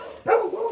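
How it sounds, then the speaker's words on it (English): A dog indoors gives one sudden, fairly loud bark that trails into a drawn-out, whiny tone, heard nearby and alone. "good lord, sorry about the dog."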